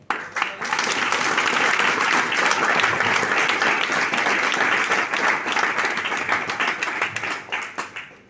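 Workshop audience applauding steadily and loudly for about eight seconds, a dense wash of many hands clapping that tapers slightly at the end.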